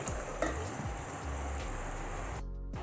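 Potato and boondi curry sizzles steadily in a pan, a continuous frying hiss with soft stirring scrapes, close and moderately loud, no voices.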